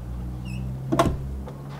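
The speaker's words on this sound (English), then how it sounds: "Soft closed doors, obviously." A Bentley's soft-close door pulling itself shut, a short low motorized hum ending in a single firm thud, close by over a steady low engine drone.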